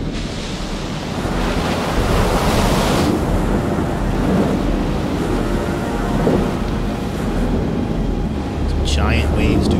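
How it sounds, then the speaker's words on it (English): Big ocean waves crash and roar continuously in Man of Medan, a loud, dense surf with wind-like rush and a short high chime near the end. "Some giant waves, dude."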